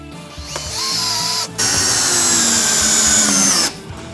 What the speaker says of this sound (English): So I'm going to drill some pilot holes there and see if I hit some joists.